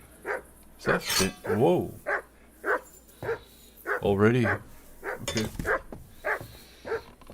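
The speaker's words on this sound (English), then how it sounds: "every time I'm brewing something or forging a sword, he's up there barking like crazy." Short repeated dog barks and yips sound at a steady pace in the medieval game Kingdom Come: Deliverance, while someone talks and reacts over them.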